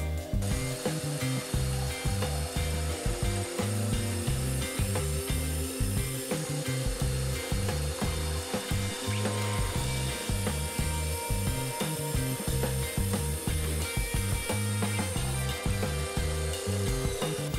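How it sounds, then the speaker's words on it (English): A miter saw cuts wood for under-stairs pantry storage in a series of rhythmic, repeated cutting strokes that carry on steadily, close and loud, with no voices. "I'm just going to use my miter saw to cut them all out."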